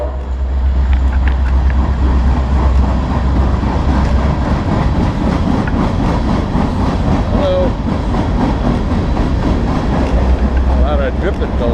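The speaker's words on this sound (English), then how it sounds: "There goes the train." A train rumbles past a riverside trail in November, a steady loud roar with faint rhythmic clatter lasting throughout, heard close by over wind and movement noise.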